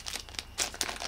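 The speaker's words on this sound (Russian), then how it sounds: "Итак, открываю следующий пакетиус." Someone opens a plastic collectible packet, and the thin wrapper makes several quick crinkles and crackles, with a few sharper rustling bursts. The sound is close and fairly quiet, with nobody talking.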